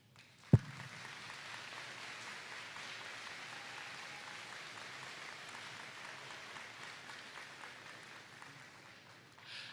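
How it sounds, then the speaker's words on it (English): Applause for veterans at a Veterans Day school assembly in Wimberley ISD: after one sharp knock, a steady, fairly faint wash of clapping from a large crowd holds for about nine seconds. "Please join me in the first of many rounds of applause for the veterans who we have the honor of joining us today."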